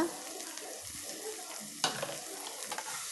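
Onions sautéing in hot oil in a kadai for chicken thokku biryani, a soft sizzle with a sharp spatula knock and a few stirring scrapes, close and quiet.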